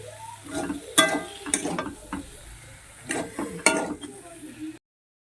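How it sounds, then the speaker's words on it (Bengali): Cauliflower and potatoes being sautéed with spices in a pan, with repeated scraping and clattering stirs over a low sizzle, close up, ending abruptly. "ভালো করে আমি মশলার সঙ্গে এই ফুলকপি আর আলুগুলোকে কষিয়ে নেব"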